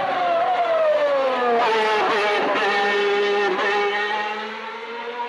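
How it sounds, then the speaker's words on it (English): Ayrton Senna's race car engine, loud and close, with the throttle stamped on and off rapidly and aggressively, its pitch wavering and dipping in quick repeated stabs over a few seconds. "You can clearly hear there that he's on and off the throttle rapidly and actually very, very aggressively"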